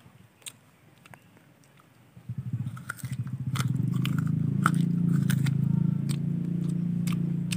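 Loud, close crunching and chewing of crisp coconut, starting after a quiet moment and continuing steadily.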